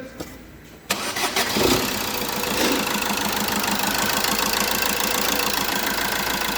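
A rebuilt 1.3 Euro5 Fiat Doblo van engine cranks and catches, then settles into a loud, steady running rumble with a rough knocking rhythm, close by.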